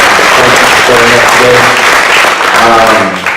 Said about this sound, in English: Please give her a round of applause for all of her work that she's doing there